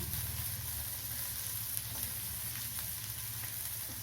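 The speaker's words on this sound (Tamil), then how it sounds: "பூண்டை போட்டு வதக்கிக்கலாம் பூண்டு நல்லா வறுபடணும்" Garlic sizzles and fries steadily in a hot pan, a continuous soft crackle with low stirring rumble throughout, no voices.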